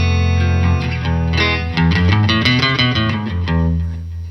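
A Fender Telecaster electric guitar with distortion strums dense, sustained chords and quick rhythmic stabs, loud and close, with a thick driven tone and no voices.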